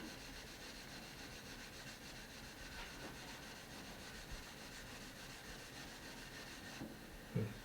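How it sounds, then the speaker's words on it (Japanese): A Japanese kitchen knife is ground on a whetstone with short, quick strokes, giving a faint, steady scraping rasp throughout, with a slightly louder knock near the end. "その状態で研ぐ。"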